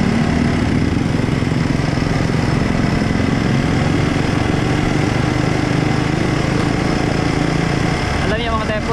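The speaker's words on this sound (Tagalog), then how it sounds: "Gamit na gamit ang ating bagong motor na si Mr." A new motorcycle engine runs steadily throughout while riding, a continuous loud drone with constant vibration and no letup, close by.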